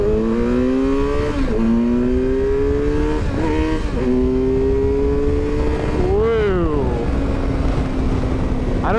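A 2016 Kawasaki Versys 1000 motorcycle pulls hard through first gear, its engine note climbing in steady rising sweeps with brief dips at each shift or throttle change, loud and close over continuous wind roar.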